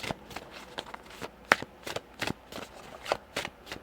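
Tarot cards being shuffled and drawn by hand, a series of soft, irregular riffles, slaps and flicks close up, fairly quiet with no talking.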